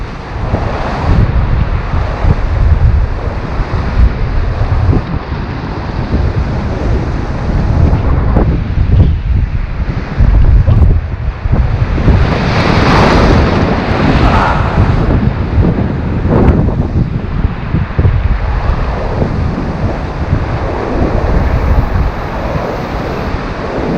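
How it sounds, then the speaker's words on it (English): Ocean waves surge against a Hawaii shoreline while fishing, a loud, continuous roar of surf mixed with heavy wind buffeting the microphone, swelling and easing without any talk. "after I cast my lure, the waves picked up"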